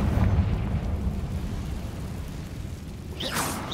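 A Confringo fire spell bursts in Hogwarts Legacy, a deep rumbling blast that fades over a few seconds before a brief bright magical shimmer.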